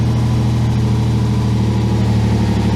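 A Ford MK1 Capri, sitting unused for eight years, idles on choke with a loud, even, throbbing hum, a steady close engine note holding without pause and no talking over it.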